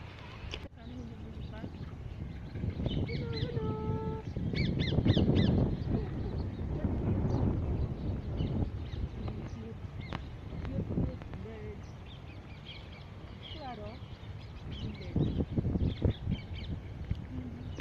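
Morning birdsong around a house, with crow-like caws and squawks among scattered calls, mixed with wind noise and a person talking throughout.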